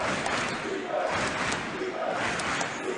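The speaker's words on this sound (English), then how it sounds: "Catholic crowd remaining in it." Catholic University crowd at a basketball game: a sustained, fairly distant roar of cheering voices in the gym, rising and falling in waves under the game noise.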